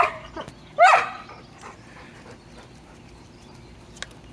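A wolfdog lets out a single sharp, whiny bark-yelp close by, followed by quieter faint whimpers and rustling in an otherwise calm outdoor setting.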